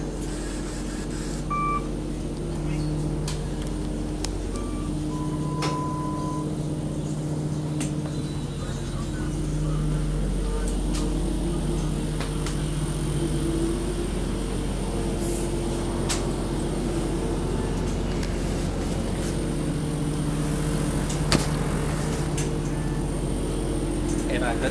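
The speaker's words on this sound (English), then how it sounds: "it might be a little bit louder inside the bus" Interior noise of a city bus in New York: a steady low engine drone and hum with occasional beeps, continuous throughout, while people talk.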